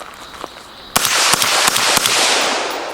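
Several sharp, muffled gunshots from a suppressed 5.56 rifle crack in quick succession outdoors, each a short broadband burst with little echo.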